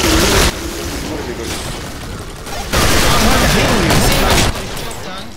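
Video-game gunfire in Killing Floor on the KF-Farm map, a dense fusillade of rapid shots and booms that surges loud in bursts, with players talking over it.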